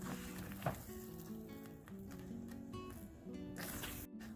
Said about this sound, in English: After 45 minutes of continuous stirring, now we can see the mixture doesn't stick to the pan